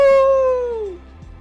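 A human voice imitates a howl, giving a single loud, clear, drawn-out tone that slides gently downward and fades after about a second.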